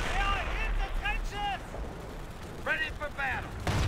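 Gunfire in the Company of Heroes video game: muffled bursts of shots and rumbling impacts sit under loud in-game voices calling out, with a quieter stretch of shooting in the middle.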